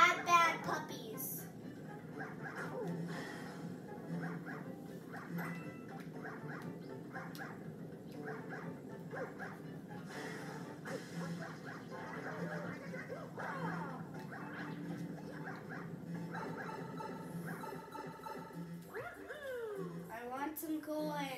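Small chomper puppies yip and whimper in a busy electronic Super Mario Galaxy 2 game mix, with a voice speaking over the noise at times.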